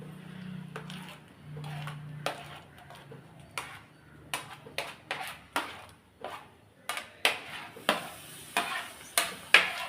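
Mashed banana being stirred in a frying pan for a banana sweet, a series of sharp spoon scrapes and knocks against the pan that grow louder and more regular toward the end, with a faint sizzle underneath.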